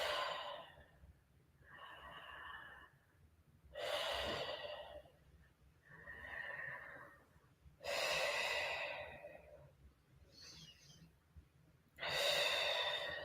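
Deep mouth breathing in a slow, even cycle, each full inhale and exhale rising and fading in turn, close and fairly quiet over a soft background hum, with no talking.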